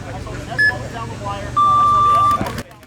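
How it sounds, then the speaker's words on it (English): A short electronic beep followed by a longer steady buzzer tone starting a paintball match, sounding loud and close over a muffled background. "As the buzzer sounds"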